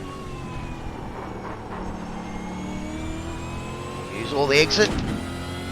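V8 Supercar engine from the iRacing sim holding a steady high drone under full acceleration, with rising harmonic tones and a brief louder burst near the end, while someone speaks over it.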